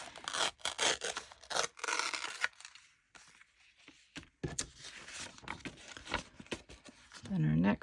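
Paper torn by hand at an angle for a card-making project, close crackly ripping in several bursts with a quiet gap, while a voice speaks over part of it.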